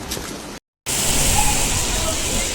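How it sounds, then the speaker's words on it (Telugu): Heavy rain pours down in Berlin as a loud, steady, dense hiss that cuts out for a brief moment and then returns just as strong. "చూడండి ఎంత వాన వస్తుందో, గట్టిగా వస్తుంది వాన అయితే"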